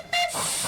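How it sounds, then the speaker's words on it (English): A steam locomotive vents steam at a high railway station in Queensland, a brief whistle-like tone giving way to a loud, sustained hiss nearby. "a chance for Capella to let off a bit of steam."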